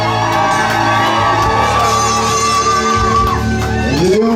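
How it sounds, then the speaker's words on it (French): Wedding guests cheer, whoop and shout for joy together, a dense, loud crowd roar that holds steady throughout with high yells rising over it. "Poussez des cris de joie, s'il vous plaît, des cris de joie."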